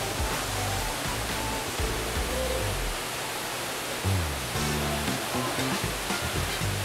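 A rainforest waterfall at a butterfly sanctuary pours as a steady, dense roar of falling water, continuous and close, with a faint low rumble underneath and no talking.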